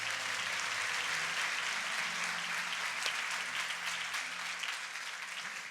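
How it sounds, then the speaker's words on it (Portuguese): A church congregation applauding during a sermon, with steady, dense clapping from many hands that holds for several seconds and fades slightly at the end, with no voices over it. "Então aplauda ao Senhor Jesus por isso."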